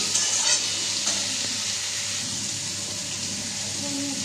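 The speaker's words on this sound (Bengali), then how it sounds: "আলুটা ছেড়ে দিয়ে দেবো, তেলের মধ্যে দিয়ে একটু ভাজা ভাজা করে নেবো" Potatoes fry in hot oil with a steady, loud, close sizzle and a few stirring scrapes, no talking.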